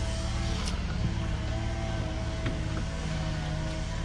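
A stock-exhaust engine on a 2007 Jeep Wrangler X two-door hard top idles with a low, steady hum, faint and even throughout, with no voices over it.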